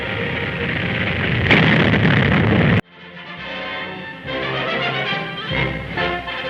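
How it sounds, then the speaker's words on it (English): Cannon fire during the 1941 Louisiana war games, where attacking tanks meet artillery: a loud sustained roar of blasts ends in one sharp report, followed by quieter rumbling battlefield noise. "the tanks run into cannon fire"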